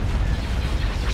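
Starship batteries fire in a space battle in the Star Wars strategy game Thrawn's Revenge, a continuous rumbling barrage of deep booms and bursting explosions, loud and dense over about a second.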